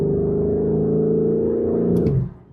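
Lamborghini Urus SE engine idling, a steady, deep, even burble holding for a couple of seconds before dropping away and fading at the end.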